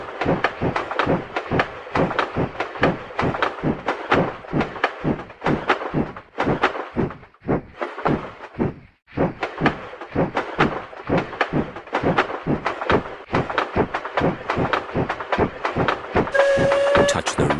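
A video game train chugs along with steady, rapid rhythmic clacks, loud and close, with a brief lull midway and a tonal horn-like beep near the end.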